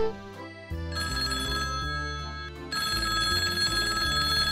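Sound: telephone ringing in Paw Patrol toy episode

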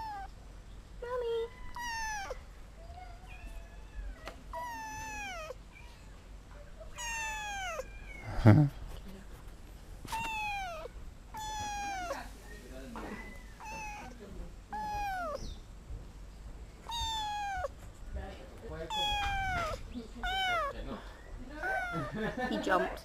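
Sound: kitten meowing

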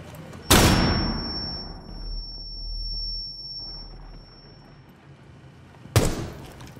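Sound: flashbang grenade exploding in Rainbow Six Siege video game

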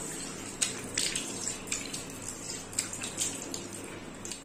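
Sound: water running from tap while washing hands

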